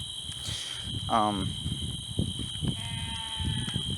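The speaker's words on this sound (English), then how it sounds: "That's a goat." A goat bleats once, a short wavering cry in the near distance, with insects chirping steadily, faint thuds and a person talking around it.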